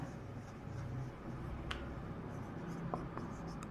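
Chalk or marker scratches across a board in a classroom, faint soft strokes with a few sharper taps, set against a low steady room hum.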